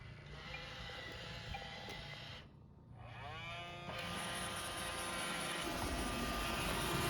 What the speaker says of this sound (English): The automatic vacuum cleaner Roomba is also active.